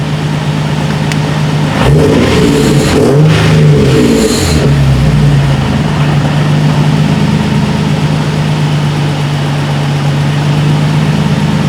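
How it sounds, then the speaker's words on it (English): A Nissan 370Z engine idles steadily and loudly up close, a brief throaty rev blip near the start before the idle settles into an even, unwavering hum for the rest of the stretch. "the idle isn't fluctuating anymore"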